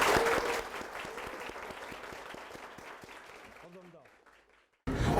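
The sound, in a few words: audience applause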